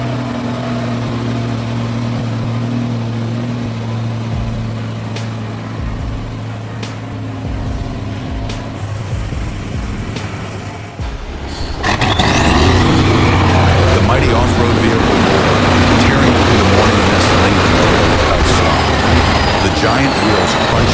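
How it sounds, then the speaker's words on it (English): An off-road truck's engine roars while it climbs a muddy, slushy mountain slope through forest. A steady low rumble builds to a much louder, dense, close roar partway through, with no talk. "The powerful engine roared, blending with the whistling wind in the ears"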